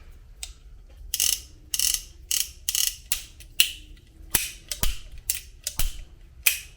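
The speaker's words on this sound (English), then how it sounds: "make sure your action's working" Repeated metallic clicks and ratcheting of an Uberti 1873 Cattleman single-action .45 revolver being cycled, a dozen or so sharp close mechanical snaps in an uneven rhythm with no talking.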